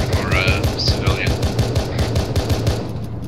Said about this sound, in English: He shot me with his machine gun.